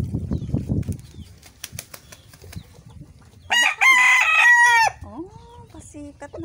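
A backyard rooster crows loudly and close by in one long, drawn-out call near the middle, with softer clucks, wing flaps and faint talk from a person before and after it.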